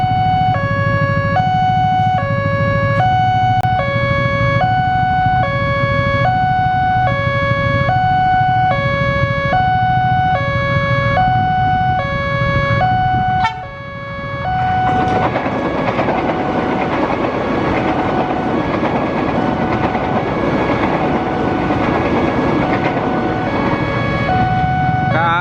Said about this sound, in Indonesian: KRL dari Jogja tujuan Palur melintas JPL 283 Krapyak, berhenti di stasiun Klaten teman-teman.